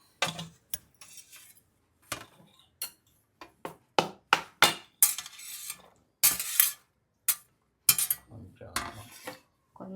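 A spoon clinks and scrapes against a bowl while dosa batter is mixed with curry leaves and cumin, giving irregular sharp taps and short bursts separated by brief silences.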